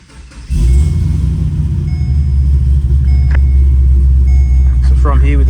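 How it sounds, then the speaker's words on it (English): A 2010 Holden Caprice WM engine cranks and fires, then settles into a loud, steady, deep rumbling idle close by, with brief electronic chimes and a short voice near the end. "So I'll just turn the car on now."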